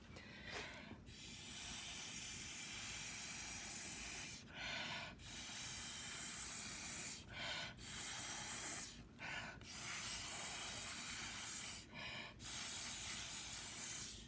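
Paint is blown through a drinking straw in several long, breathy hissing gusts separated by brief pauses, close and fairly loud, with no talking.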